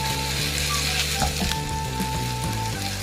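Onions sautéing in a pan until lightly browned give a continuous, close, moderately loud sizzle with faint scraping and clicking touches from stirring; no talk.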